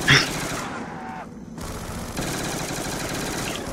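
Rapid automatic fire from an RPD machine gun in a video game, moderately loud, with a sharp burst at the start, a short lull, then more continuous rattling.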